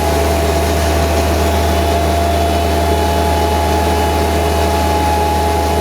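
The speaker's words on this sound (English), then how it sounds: "If you over throttle it, it'll bog down, the chain will stop moving." A trencher's engine runs at a steady, loud, low drone while the machine backs up slowly, with a constant hum that does not change throughout.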